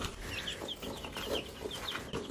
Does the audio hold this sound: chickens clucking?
yes